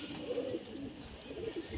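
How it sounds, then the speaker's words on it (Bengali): Jabra Bagha-panel pigeon from a Lalbagh club cooing in soft, repeated low rolling calls, a couple of phrases close by over faint background noise. "এই যে একটা জাবরা কবুতর এটা একটা বাঘা প্যানেলের একটা কবুতর"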